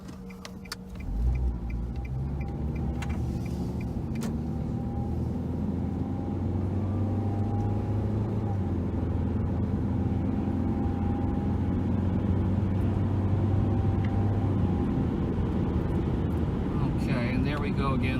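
A 2003 Nissan Altima S with a 2.5-liter four-cylinder engine drives steadily along a road at about 55 mph, giving a continuous low engine and road rumble from inside the car. A person talks over it throughout.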